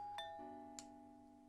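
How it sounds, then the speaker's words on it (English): A video game doorbell in ToHeart2 rings as a soft two-tone chime, a higher ding followed by a lower dong that lingers, with a second faint strike, quiet and alone. "Ring the doorbell."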